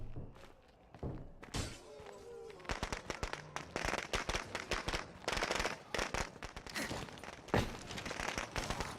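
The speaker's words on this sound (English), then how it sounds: "Throw some firecrackers over there." Firecrackers in the video game State of Decay 2: rapid, irregular bursts of sharp pops and bangs crackle one after another, with a few heavier thuds, fairly quiet overall.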